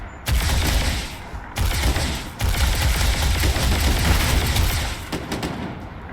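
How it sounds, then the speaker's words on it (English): Enemy gunfire in the video game Starfield: sustained, loud bursts of automatic shots rattling almost continuously, broken by a couple of brief pauses, with nearby booming impacts. "They're firing on me."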